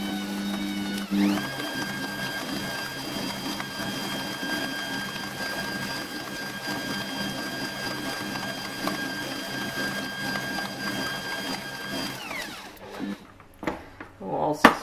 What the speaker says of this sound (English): We'll also scrape the sides down because this is, of course, a stand mixer.